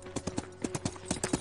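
Horse hooves clip-clop in a steady, close rhythm, about a dozen sharp hoofbeats in quick succession with no voices over them.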